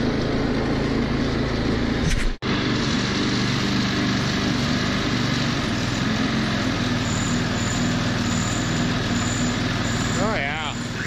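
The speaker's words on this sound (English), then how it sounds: "Just riding my tractor in a parking lot." A vintage lawn tractor engine runs steadily while being ridden in a parking lot, a continuous near drone with a sharp break early on and someone speaking over it.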